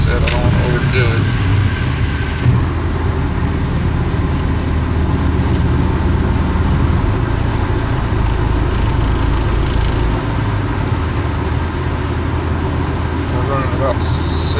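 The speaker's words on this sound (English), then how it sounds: "getting on the interstate. A little bit of throttle" Car engine pulls onto an interstate under light throttle, a loud steady low drone with road rumble and wind running continuously.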